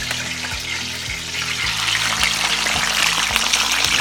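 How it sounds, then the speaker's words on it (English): Steady, crackling sizzle of flourless chicken wings frying skin side down in a hot cast iron pan, with soft rhythmic thumps underneath, close and continuous throughout. "place the skin side down and let that start frying first"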